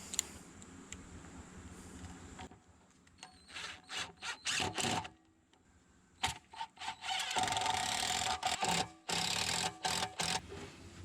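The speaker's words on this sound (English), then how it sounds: "Now we're going to run pocket hole screws into each hole." Pocket hole screws are driven into glued and clamped wood panels while building an entryway console table, with several short bursts of a power driver whirring between pauses and handling clatter, close and fairly loud, no talk.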